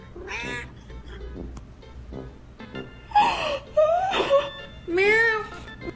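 A cat meows back repeatedly at a man in a series of drawn-out, pitch-sliding cries, some loud and close, with brief pauses between calls.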